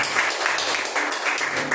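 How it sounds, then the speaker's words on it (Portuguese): Brief burst of congregation clapping at a Portuguese-language church service, rhythmic claps with a steady background wash, close and moderately loud for under two seconds. "Pode aplaudir ao Senhor."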